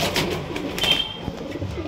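An old-line pigeon at a bird sale in Bangalore gives a soft, low coo close by, repeated over about two seconds among faint background bird sounds.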